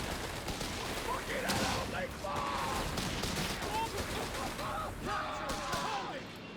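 Company of Heroes 3 rifle squad volley firing in a battle, a dense crackle of rifle shots in bursts mixed with battlefield noise and a voice talking over it.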